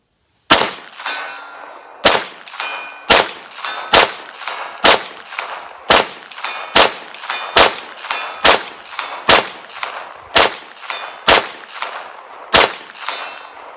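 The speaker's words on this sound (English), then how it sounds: "Let's try shooting it straight out of the box." A Rock River Arms RUK 9BT fires about a dozen loud, sharp shots at roughly one-second intervals, each with a ringing clang from a steel target 100 yards away that decays between shots.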